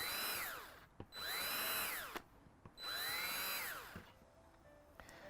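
Power drill fitted with a 1/16 inch bit boring small holes around the edge of a plastic bucket, two long whining runs that rise and fall in pitch, separated by brief pauses and clicks, close and fairly loud.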